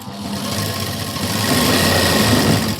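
A sewing machine runs steadily, stitching fabric during a garment fitting, its motor whirring in one continuous, fairly loud run for a few seconds with no talk.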